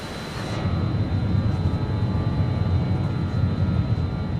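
Steady, loud engine roar from an Avro RJ airliner in Microsoft Flight Simulator climbing toward cruise altitude, a continuous broadband drone with a faint high whine, unbroken for several seconds.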